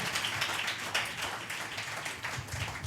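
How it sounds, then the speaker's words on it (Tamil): A congregation claps together during a Tamil church sermon, a dense, steady wash of many hands filling the hall at close range for the whole stretch. "நல்ல கைத்தட்டி துதிப்பீங்களா?"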